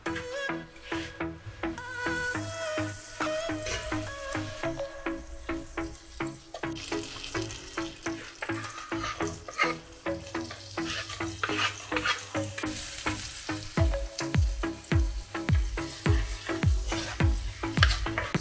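Butter sizzles in a pan while carbonara-style pasta cooks. A close, steady crackle runs throughout, mixed with clattering stirring and scraping, and nobody talks.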